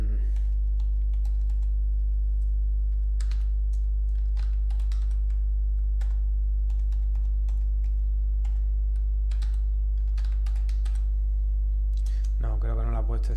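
Scattered clicks of a computer keyboard as a new password is typed in, individual keystrokes in uneven bursts over a constant low electrical hum, with a voice speaking briefly near the end.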